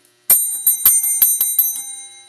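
A small metal bell rings in a quick series of about eight bright, sharp strikes with ringing overtones, close and loud, with no talking.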